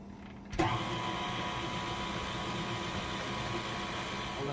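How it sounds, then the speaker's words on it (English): Stand mixer kneading naan dough of flour and milk at low speed, a steady motor hum with a faint rhythmic churn that starts abruptly after a brief quiet moment and continues evenly. "I'm going to mix at a low speed until it forms a smooth dough."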